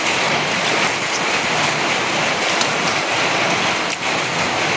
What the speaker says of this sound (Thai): ฝนตกไปทำไป